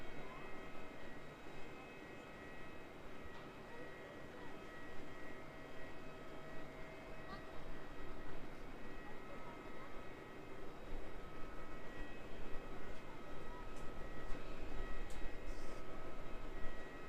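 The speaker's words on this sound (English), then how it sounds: "Sounds like some A320 engines starting up there." Airbus A320 jet engines spool up at Auckland Airport's domestic side, a steady distant roar with whining tones holding for the whole stretch beneath faint background noise.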